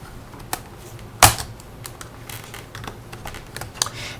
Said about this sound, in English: just go around and unclip the keyboard